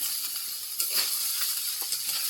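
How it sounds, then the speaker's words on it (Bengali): Fish heads and onions frying together in a pan give off a steady, close sizzling hiss that holds for about two seconds, with faint crackles and no voices. "মা দেখো মাছের মাথাগুলো আর পেঁয়াজ একসঙ্গে ভেজে নিচ্ছে"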